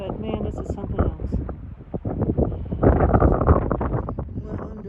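Strong gusts of wind at high elevation in the Beartooth Wilderness buffet the microphone in heavy, uneven bursts that swell louder toward the middle.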